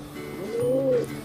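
A pigeon or dove gives a single soft, rising-and-falling coo up close during feeding, over faint background noise.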